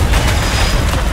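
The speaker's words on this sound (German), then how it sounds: "Oh, Schüsse." Gunfire in the video game House of Ashes comes as a loud, dense burst of booming shots packed tightly together with no talking over it.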